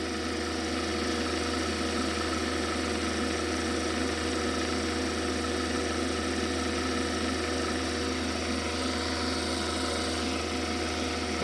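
A G&S tire grinder motor runs steadily while cutting tires, giving a continuous, even mechanical drone and whine with no change for the whole stretch.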